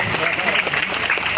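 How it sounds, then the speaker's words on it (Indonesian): A crowd at a village gathering applauds the village heads, a brief burst of dense clapping with voices mixed in. "Oh, tepuk tangan untuk kepala desa dulu."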